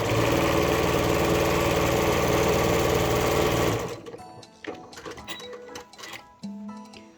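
A sewing machine stitches a fabric pouch, running with a loud steady whirr for a few seconds, then stopping abruptly and leaving scattered small clicks and handling noises.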